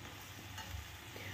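Peas and potato pieces sizzle and hiss in oil in a wok, stirred gently, a soft, continuous frying sound heard close up with no voices.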